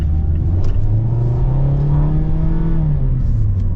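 A 2025 Mazda Miata GT with automatic transmission accelerates, its engine note rising in a low steady drone then easing back, heard from inside the car with no talk.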